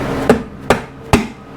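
Hammer striking a part during a 1968 Honda CB350 engine rebuild, three sharp evenly spaced blows about half a second apart, close and loud in a quiet workshop.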